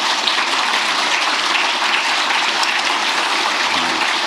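Steady, dense clapping from a large audience at a presidential speech, sustained and even throughout with no voices over it.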